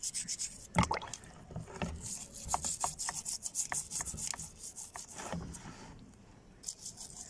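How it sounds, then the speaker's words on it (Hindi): Used toothbrush scrubbing a rusty handgun with cleaning solution, giving close, uneven bristle rubs and scratchy strokes in irregular bursts with small knocks, no talk. "इसी सॉल्यूशन से सिंपल यूज्ड किसी टूथब्रश से इसको हल्का हल्का साफ करना शुरू कर दें"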